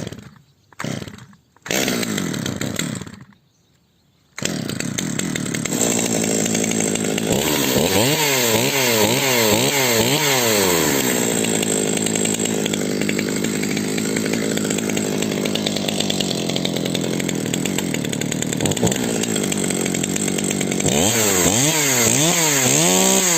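A 020T chainsaw sputters through a few short pull attempts, then catches and runs loud and steady up close, its engine revving up and down in repeated rises.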